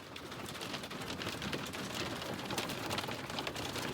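A summer hailstorm in Montana batters surfaces with a dense, steady roar of hard impacts, loud and continuous throughout with no pauses.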